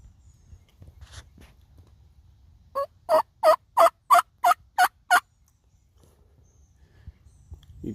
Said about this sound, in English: Yeah, that's the gobbler.